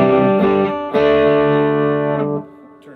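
A Fender Telecaster with three single-coil pickups plays through a 2021 Vox AC15C1 amp with heavy reverb, loud ringing chords that sustain and wash out with a lingering tail.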